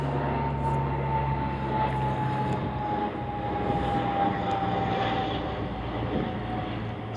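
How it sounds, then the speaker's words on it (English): A small airplane passing overhead outdoors near a shore, a steady droning engine hum that holds fairly loud throughout with no talk. "Another plane."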